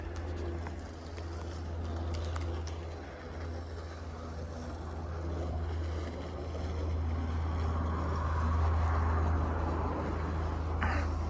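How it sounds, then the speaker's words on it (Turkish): A male bird inside a coop calls repeatedly to a female, its low cooing voice set against a steady low rumble and breezy background noise throughout. "Dişiye ötüyor."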